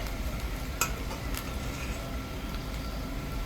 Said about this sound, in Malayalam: ഇഞ്ചി, വെളുത്തുള്ളി, കാന്താരി മുളക്, കറിവേപ്പില ഒന്ന് വഴഞ്ഞ് വന്നിട്ടുണ്ട്